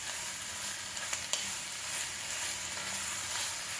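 Onions sizzle and fry steadily in a pan at medium-high heat while being stirred, with a continuous bright crackle and a couple of soft spoon or utensil knocks, close and alone without talk.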